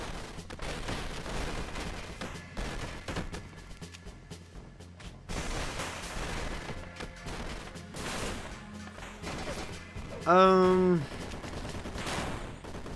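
Gunfire in the 2D action game Superfighters Deluxe during a 3v3 tournament match: a continuous rattle of shots and impacts, with a brief louder tonal burst near the end and no talk.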